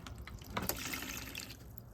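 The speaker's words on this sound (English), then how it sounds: "When I push on it, it pours out water, so this is gonna be quite messy." Water pours and trickles out of a clogged drain on an LG refrigerator, a soft, steady wet splashing that runs throughout at low volume, with no voices.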